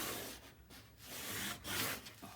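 A tool is rubbed firmly along score lines to burnish a tucked-in paper fold, giving soft, close scraping strokes in short repeated passes with brief pauses between them.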